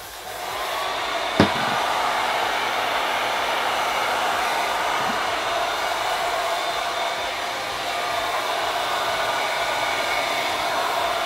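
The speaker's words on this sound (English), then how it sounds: "if I see a part that's blowing with the blow dryer, I add more hairspray" A blow dryer runs steadily and loud on a styled wig being set with hairspray, a continuous whooshing roar with a brief knock near the start.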